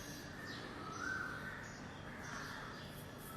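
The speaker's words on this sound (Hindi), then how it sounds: "और आज पक्षी, कोयल, कूक" Koel and other birds calling outdoors in a quiet locality, faint and distant, with one brief clearer call rising above a steady hiss of ambient background.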